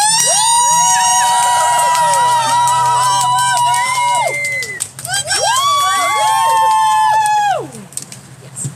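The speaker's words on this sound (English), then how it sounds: "Uproarious applause!" Audience at a comedy set cheers, whoops and claps loudly and continuously, with a brief dip midway before surging again, then tapering off near the end.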